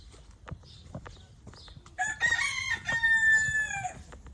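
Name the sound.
chicks, turkeys and bantam chickens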